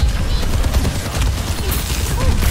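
Rocket explosion in a video game, heard as a dense, sustained barrage of loud booming blasts and crackling gunfire rolling on for a couple of seconds, with no talking.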